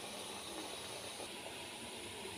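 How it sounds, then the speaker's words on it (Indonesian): Steady, faint hiss of steam rising from a covered pot on a wood-fired village stove, a soft continuous wash of noise with no voices. "Sekarang sudah saya masukkan ke panci yang sementara dikukus."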